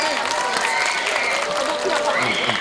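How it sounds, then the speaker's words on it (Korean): A festival crowd at a local residents' festival applauds before a guest singer performs, steady clapping with some voices mixed in, fairly loud throughout. "박수 한번 다시 한번 크게 한번 부탁드릴까요?"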